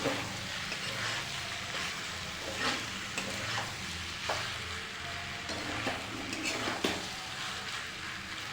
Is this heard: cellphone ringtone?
no